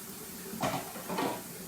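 Water runs and splashes faintly in a kitchen sink while a cast iron pot is cleaned, with two soft swells of clattering and rinsing.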